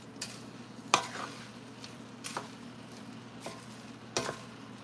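Cauliflower sizzles steadily in a pan while a utensil stirs and scrapes at irregular intervals, close and moderately quiet.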